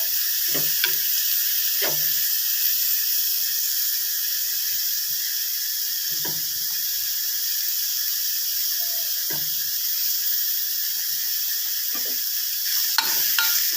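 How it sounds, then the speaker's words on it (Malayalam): Grated coconut being stirred into amaranth leaf thoran in a pan: a steady, loud sizzle runs throughout, broken by short scraping spatula strokes every second or two, with no voices. "ഇളക്കി കൊടുക്കാം"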